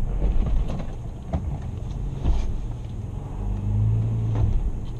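A Toyota FJ 4x4 on an off-road trail grinds up over a rock, its engine a low, heavy rumble that rises and falls with throttle, with scattered knocks and scrapes from the tyres and chassis.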